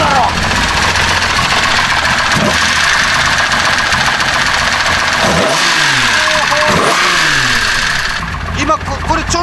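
A custom car's engine idles roughly, then revs up twice in loud rising-and-falling sweeps, close by, with a steady mechanical drone throughout.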